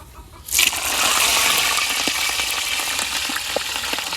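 Small chopped shrimp dropped into deep hot oil, bursting into a loud, close, continuous sizzle after a brief quiet start, with scattered pops and crackles running through it.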